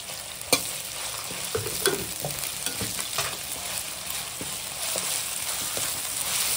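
Onion and ginger stir-frying in oil in a pan for fish curry: a steady close sizzle broken by repeated scraping strokes of the spoon, with no talking.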